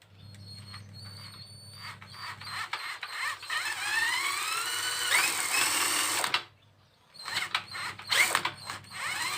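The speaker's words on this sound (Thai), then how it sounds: "ผมจะเร่งเต็มที่กัดเลยนะครับ ปรับสว่านไปที่เบอร์สองครับให้เร็วที่สุดนะครับ" An electric drill spins the oil pump of a Yamaha Fino motorcycle with a high mechanical whine that rises in pitch as the drill speeds up. The whine cuts out briefly, then restarts in short whirring bursts close by.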